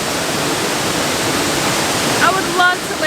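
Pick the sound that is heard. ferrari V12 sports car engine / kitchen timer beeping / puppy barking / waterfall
waterfall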